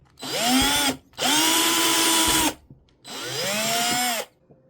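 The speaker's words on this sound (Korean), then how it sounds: "이쪽 위치에 구멍을 내줄게요 플라스틱이라 굉장히 간단하게 작업이 가능합니다 구멍을 좀 넓혀 줄게요" A power drill bores and widens a hole in plastic while a fish-attracting searchlight is being mounted. Three loud, close whirring bursts of about a second each are separated by short pauses, with no other sound.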